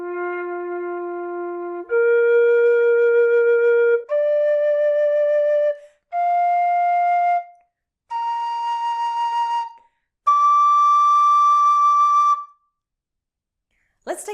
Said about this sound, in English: Let's assess the volume of the low F whistle.